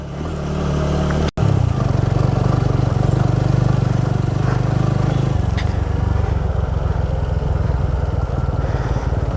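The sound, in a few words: trail motorcycle riding in second gear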